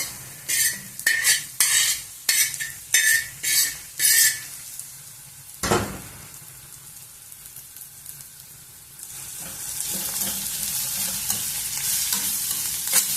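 Bitter gourd pieces frying in a curry pan, stirred with a spoon in a quick run of rhythmic scraping clanks. A single sharp knock follows, then a steady close sizzle of frying takes over.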